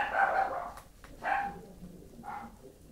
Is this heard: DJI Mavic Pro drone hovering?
no